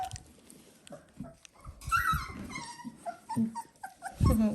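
Twenty-day-old Dalmatian puppies whimper and yip in short, high, wavering cries, several small voices overlapping close by with brief pauses and a few low grumbles.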